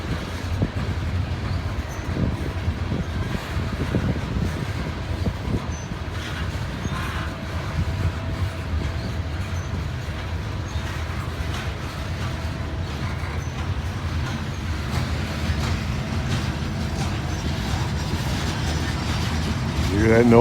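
A long, heavy freight train rolls past near Cresson, Pennsylvania, giving a steady low rumble with faint clacking that holds for the whole stretch and swells slightly at the end.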